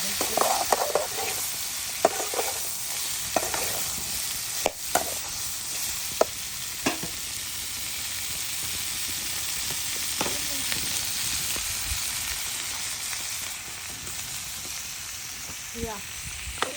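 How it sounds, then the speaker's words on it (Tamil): Dried anchovies and onions sauté in a pan, a continuous close sizzle broken by scraping stirs and occasional sharp clicks of the spoon against the pan throughout. "அப்படியே நம்ம நெத்திலி கருவாடாக போடுவோம் போட்டு நல்லா வதக்கி வதக்கி வதக்கி"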